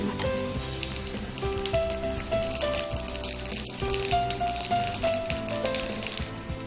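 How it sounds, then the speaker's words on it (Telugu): Tempering seeds crackle and sizzle in hot oil for a Telangana-style dish, a dense close frying hiss with scattered pops over a faint musical backdrop. "అట్లా కొంచెం ఆయిల్ వేడెక్కగానే కొంచెం పోపు గింజలు వేయాలన్నమాట."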